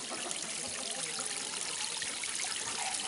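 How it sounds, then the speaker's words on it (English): Water spills down the steps of a garden step fountain into a duck pond, making a steady, close, continuous trickling and splashing that runs unbroken throughout. "It's got the falling water, which you can hear."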